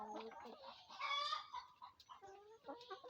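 Layer hens on a poultry farm, stocked as pullets, cluck and call in a busy overlapping chorus at close range, with one louder burst of squawking partway through and no talk.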